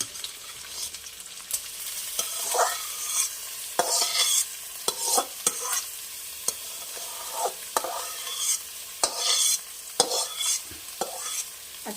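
Rice coated in ghee and butter fries in a pan for khichuri, giving a steady sizzle broken by repeated scraping, stirring strokes, loud and close with no talking.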